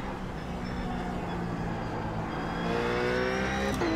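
A RUF race car in the iRacing simulator lapping Imola drones under steady throttle, its engine note climbing through the revs, then a quick gear change near the end before it pulls on louder.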